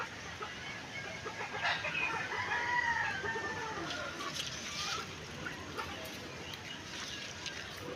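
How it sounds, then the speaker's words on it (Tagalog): Chickens squabbling on a farm below, with rooster crowing and clucking rising over a steady background hiss, loudest around the middle and fading later. "Parang may naglalabang manok din sa baba."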